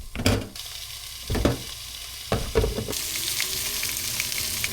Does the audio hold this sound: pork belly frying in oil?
yes